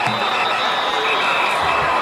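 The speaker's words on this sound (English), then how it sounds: "Here comes the crowd." Football crowd at a high school game, Walkersville vs Liberty, cheering as a broad steady roar that fills the whole stretch, loud and continuous with no clear speech on top.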